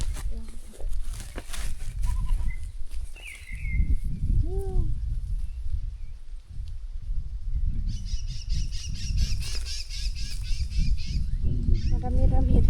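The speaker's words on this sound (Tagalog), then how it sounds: "Yung alagang ibon. Ingay." Noisy pet birds squawk and give goose-like honks in short bursts, with a run of rapid chattering calls partway through, mixed with a low background rumble and murmured talk.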